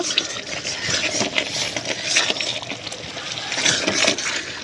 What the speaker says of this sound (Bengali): এবার জল দিয়ে পোস্তটা এরকম করে কষিয়ে নিয়েছি, আর একটু ভালো করে কষিয়ে নেব।